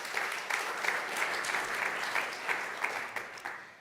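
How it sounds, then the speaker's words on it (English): Applause from a group, a soft, dense wash of clapping heard at some distance, steady throughout with a few sharper individual claps standing out and fading toward the end. "I think that's a round of applause"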